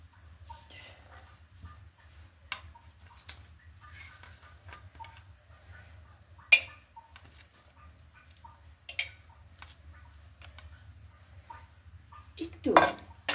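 Spices are tipped into hot oil in a pan on a stove and stirred. Sparse metal spoon clinks and scrapes sound against the pan over a quiet background, with a louder clatter near the end.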